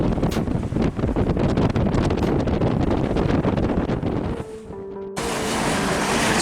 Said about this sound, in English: But we're now exposed to the waves.